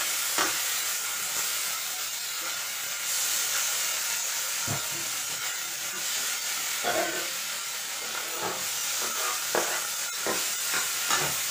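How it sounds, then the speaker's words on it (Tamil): Ginger garlic paste sautés in a pan for a mutton kidney pepper gravy, giving a steady close hiss and sizzle broken by occasional soft stirring knocks. "இஞ்சி பூண்டு பேஸ்ட் போடுவேன், போட்டுட்டு நல்லா வதக்கிடுவோம்."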